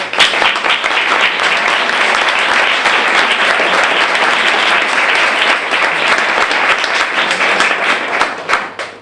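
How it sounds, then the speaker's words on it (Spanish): Sustained audience applause at a Spanish-language lecture event, dense steady clapping filling the room for about nine seconds before tapering off at the end. "Me gustaría darles un aplauso en representación."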